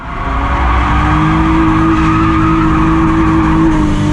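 A drift car runs on a wet track at night at Driftland, giving a loud, continuous engine drone with a steady whining tone and a sustained tire hiss throughout, close and unbroken.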